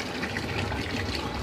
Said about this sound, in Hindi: पैनल से पानी अब ये टैंकी के ऊपर बाल्टी में भर रहा है